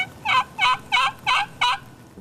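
Five quick, evenly spaced wild turkey gobbles, clear and fairly close, each a short rattling burst with brief pauses between.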